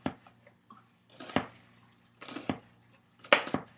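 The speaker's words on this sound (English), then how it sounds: "I'm going to take the onion, and I don't know if you can see this very well, but I'm just going to do very thin slices." A knife slicing an onion thinly on a cutting board gives a few close, crisp cuts, each ending in a sharp tap on the board, spaced about a second apart in a quiet kitchen.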